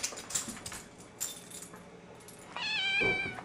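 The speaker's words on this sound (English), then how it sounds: "Are you hungry? That's why he's meowing." A cat gives one drawn-out, high meow near the end, after quiet shuffling and light clinking sounds in a calm room.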